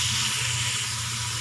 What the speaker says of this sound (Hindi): अब हमने इसमें चिकन ऐड कर दिया, इसको कलर थोड़ा सा चेंज होने तक हम भूनेंगे